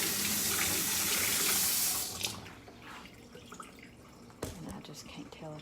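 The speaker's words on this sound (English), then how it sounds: "so what I'm gonna do is add more hot tap water." Tap water gushes steadily for about two seconds, then cuts off, leaving faint drips and small knocks.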